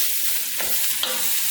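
Chopped cabbage sizzles steadily in a pan of flavored oil and is stirred, with a couple of brief scraping clinks over the continuous close frying hiss. Nobody talks.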